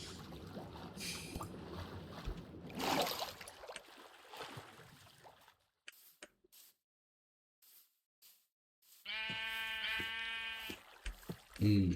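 Sheep in the Minecraft video game bleat in a short burst of wavering, nasal calls near the end, after stretches of game sounds and near silence.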